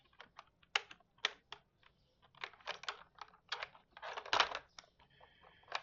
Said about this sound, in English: Now, why is my keyboard not working?